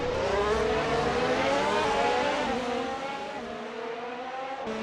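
Race car engines at Bahrain in a racing video game, several cars overtaking in the midfield: a dense, continuous roar of high-revving engines with layered rising and falling pitches, loud and steady throughout.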